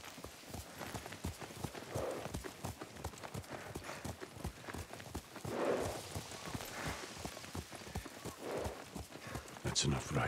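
Horse hooves clip-clopping at a walking pace while riding in Ghost of Tsushima, a steady close rhythm of hoofbeats throughout with a brief whinny near the end and people talking over it.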